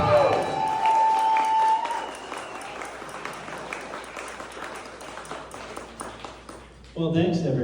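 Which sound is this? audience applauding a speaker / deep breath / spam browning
audience applauding a speaker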